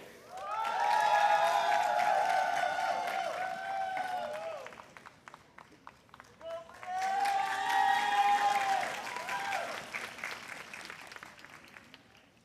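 A commencement audience at Pacific University gives graduates two sustained rounds of dense applause, loud and close, with a brief lull between them and scattered cheers rising within the clapping.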